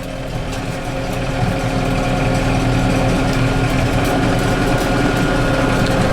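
A cheap used round baler runs briefly to wrap net around a bale, a loud, steady mechanical drone with engine hum and rattling that holds without a break.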